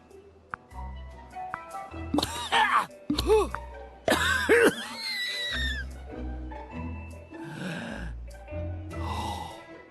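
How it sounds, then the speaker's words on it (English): A character in the video game Manual Samuel coughs and clears their throat in several harsh, strained bursts after breathing in water, followed by groaning and heavy breaths, with a quiet musical backdrop. "Sam is dumb enough to breathe in with his mouth full of water. He has to cough."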